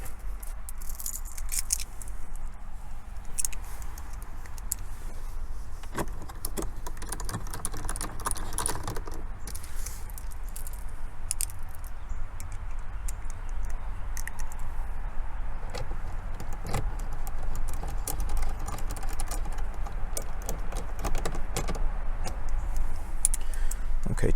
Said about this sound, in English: So now we'll just go ahead and put the rest of the screws back in.